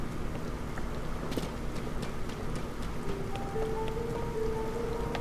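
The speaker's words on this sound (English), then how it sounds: "there's not much I can do with all this rain here" Rain in the video game Zelda: Tears of the Kingdom falls as a dense, steady hiss of drops with scattered ticks and taps, moderate and continuous, a faint tonal chime entering toward the end.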